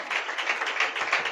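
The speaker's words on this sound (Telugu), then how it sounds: "చప్పట్లు కొట్టండి యేసయ్యకి గట్టిగా." A church gathering in Kakinada claps for Jesus, giving steady, dense applause from a crowd that keeps an even, rippling rhythm throughout without any voices over it.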